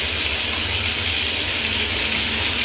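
Steady, loud gush of water running from a GROHE Grohtherm 1000 thermostatic mixer tap set to fully cold, a constant hissing stream without pauses.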